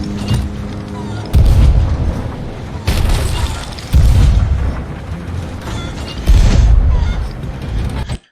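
Ship cannons fire in the pirate video game Sea of Thieves, several heavy booms spaced seconds apart, each followed by a rumbling tail over creaking game ambience.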